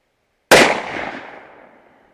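A single sharp, loud rifle shot from a Ruger .308 topped with an Arken EP5 scope, fired while zeroing, with a sudden crack followed by a long decaying echo rolling off over about a second and a half.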